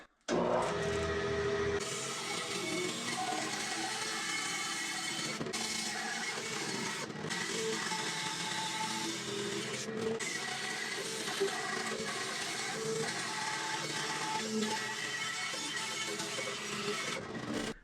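A bandsaw cuts a large wooden bowl blank for a woodturned salad bowl: a loud, steady whining machine drone starts abruptly and keeps going, with a few brief dips as the blade works through the thick wood.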